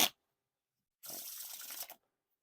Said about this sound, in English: Now time for the riffle shuffle and bridge shuffle